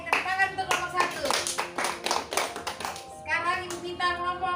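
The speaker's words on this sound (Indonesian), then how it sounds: "Oke, tepuk tangan untuk kelompok 1." Classroom hands clapping for a student group, a brisk burst of applause from pupils lasting several seconds, with children's voices chattering over it and a brief lull before the clapping picks up again.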